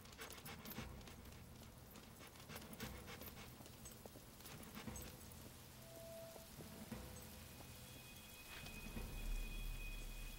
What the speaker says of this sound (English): The rain's disappearing and reappearing.